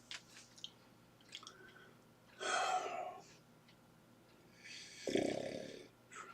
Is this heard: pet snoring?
yes